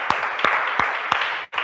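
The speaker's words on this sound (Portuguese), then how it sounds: "Nós te agradecemos com palmas" Applause from a Portuguese-speaking church congregation, steady crowd clapping with a few sharper unison accents at regular intervals, cutting off abruptly near the end.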